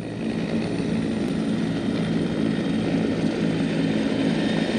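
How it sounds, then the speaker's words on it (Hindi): Military helicopters, including Bell 412s, roar past the saluting dais at a Pakistan Day national parade, with a steady loud rotor and engine drone that holds throughout and has no talk over it. "दिन और रात के ऑपरेशंस की सलाहियत के हामिल ये हेलीकॉप्टर्स अफवाज की तेज नक्लो हमल के लिए इस्तेमाल किए जाते हैं।"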